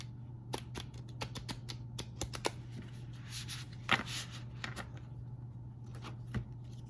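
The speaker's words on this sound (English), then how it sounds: "I pre-shuffle, but I'm going to just shuffle again" A tarot deck is shuffled in sparse bursts of soft card flicks and taps over a steady low hum, with no talking.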